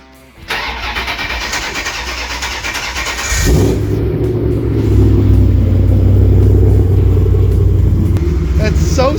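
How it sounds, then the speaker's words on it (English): Chevrolet Corvette ZR-1 engine cold-starting: a brief crank catches into a loud, close rumble, then settles into a steady, deep, slightly lumpy idle that holds to the end. "And this is a cold start and an idle."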